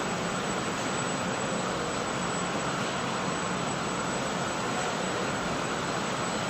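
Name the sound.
vacuum pumps and motor drives whine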